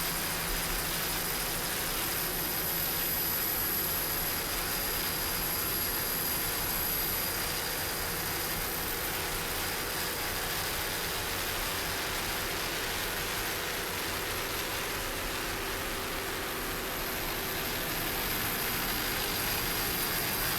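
Offshore racing powerboats lining up for a race start off the beach at Ocean City, Maryland, their engines a steady, loud, continuous roar with no break for the whole stretch.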